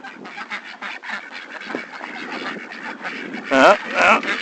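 Several ducks quack in rapid, overlapping calls close by, growing louder and harsher toward the end.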